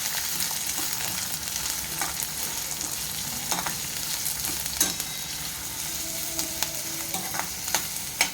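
Onion browning in oil in a pan, a steady sizzle with occasional spatula scrapes and taps against the pan, close, without talk.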